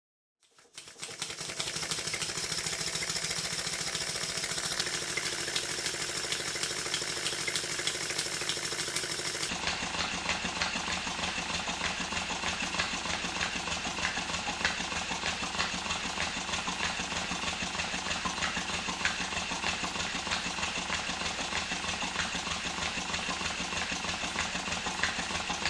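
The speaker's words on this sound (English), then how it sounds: "I thought it was a good time to give the engine a bit of a run." A small model steam engine with a freshly fitted manifold runs steadily for a long stretch, a rapid, even mechanical ticking and chuffing at close range that carries on without a break.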